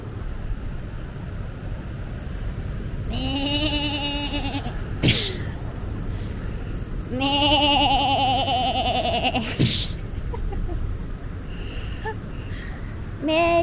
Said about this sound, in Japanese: ヤギヤギヤギヤギがいますよ。